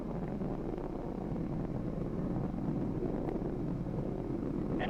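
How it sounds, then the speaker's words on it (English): Space Shuttle Atlantis main engines at launch, heard as a steady, dense low roar that fills the whole stretch without a break, rumbling and wind-like, with no voices over it. "Engines now revving up, standing by for the throttle up call."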